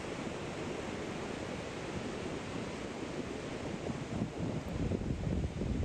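Ocean surf rolling onto a long stretch of wet sand at low tide on a California beach, a continuous broad wash of wave noise with gentle swells in intensity and some wind rumble.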